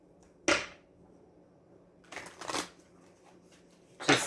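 Tarot cards are shuffled by hand in three quick papery bursts, clear and close, with short quiet gaps between them.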